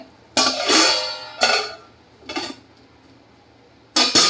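A metal lid goes onto a pot of cooked moong dal khichdi on the stove, giving several separate clanks and scrapes close by with quiet gaps between them and no talking.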